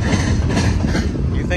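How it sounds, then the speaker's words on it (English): A Norfolk Southern freight train rolls past close by at a rail junction, a heavy low rumble with rhythmic wheel clatter throughout the short stretch. "I bet you after this train goes by, there's going to be another one."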